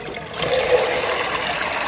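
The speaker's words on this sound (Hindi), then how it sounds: "पानी इसके अंदर डाल देते हैं" Water pours steadily into a chicken feeding trough, a continuous close trickling splash lasting a couple of seconds with no talking.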